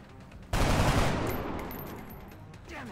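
A flank shot in XCOM fires as a loud, sudden burst of gunfire that starts sharply and then decays over a couple of seconds, with a quieter follow-up sound near the end.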